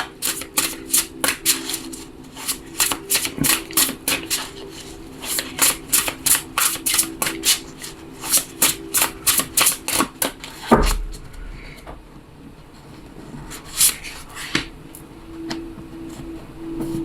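Tarot cards are riffle-shuffled up close in a quick, steady run of crisp flutters. After a pause come a few softer shuffles and taps.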